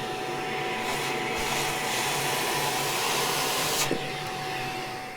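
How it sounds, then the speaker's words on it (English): Vacuum cleaner hoovering up cork debris from a model railway baseboard, a steady close whine running unbroken throughout with no talk. "we just give that a quick hoover to hoover up all the debris"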